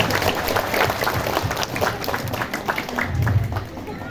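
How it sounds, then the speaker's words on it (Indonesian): Crowd clapping at a Maulid Nabi religious gathering in a village hall, a dense, steady patter of many hands lasting throughout, with voices and crowd noise mixed in. "Cepat, tepuk tangan dong."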